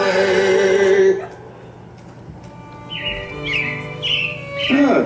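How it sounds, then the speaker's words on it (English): Animatronic robins in Disney's Carousel of Progress ride at the Magic Kingdom give a series of short bright chirps in quick bursts after a sung passage fades, fairly close and clear. "It looks like the Robins are getting ready to celebrate Valentine's Day today."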